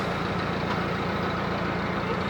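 A narrowboat engine drones steadily at close range, a constant low rumble with no breaks or voices.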